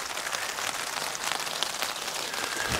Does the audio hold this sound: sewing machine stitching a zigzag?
no